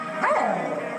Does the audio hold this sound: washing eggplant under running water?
no